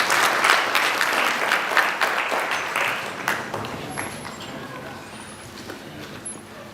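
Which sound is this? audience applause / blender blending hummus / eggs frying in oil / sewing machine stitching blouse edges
audience applause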